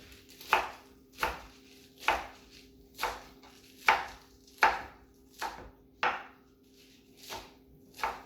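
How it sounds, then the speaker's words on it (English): Knife chopping spinach on a cutting board, about a dozen crisp, evenly spaced strokes in a steady rhythm, close and clear with no talk. "I like to chop my spinach up"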